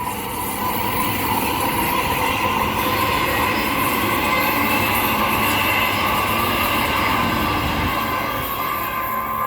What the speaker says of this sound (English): We have a Perth service departing platform number 1.